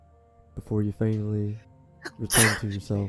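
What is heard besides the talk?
sneeze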